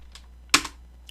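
One sharp keystroke on a computer keyboard while numbers are entered into an Excel spreadsheet, close and isolated, with a few faint clicks before and after it.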